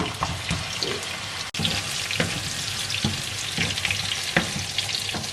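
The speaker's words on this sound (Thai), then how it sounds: "จะใส่แครอทลงไปก่อน ผัดให้นุ่มนิดหนึ่ง" Carrots stir-fry with garlic in hot oil, giving a continuous close sizzle broken by regular scraping stirs of a utensil against the pan, one sharp knock partway through.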